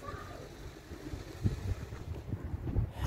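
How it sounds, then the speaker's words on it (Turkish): Steady wind rumbles and buffets a microphone outdoors in a Turkish village, a low roaring gust noise with louder surges toward the end. "bugün rüzgarlı hava"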